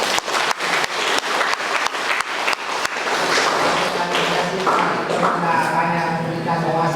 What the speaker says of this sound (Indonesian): kita memberikan aplaus dulu atas kehebatannya